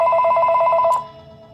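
A telephone rings in a rapid pulsing electronic warble during a recorded talk, a close, loud burst of repeated tones that stops sharply and leaves a fainter lingering tone.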